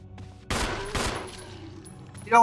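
Gunfire aimed at an enemy in the Resident Evil remake, two loud, sharp shots about half a second apart over a quiet, tense background, followed by a short noisy burst at the end.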